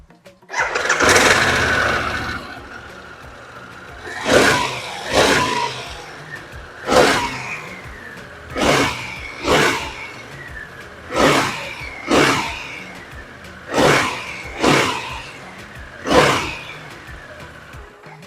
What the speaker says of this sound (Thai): เดี๋ยวเราฟังเสียงเครื่องยนต์กันหน่อยนะครับ